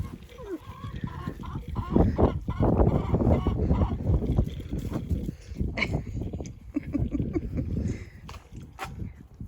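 Chickens in a coop that doubles as a well house on an Oklahoma homestead in winter: repeated close clucks and squawks from several birds in uneven bursts, with people talking among them.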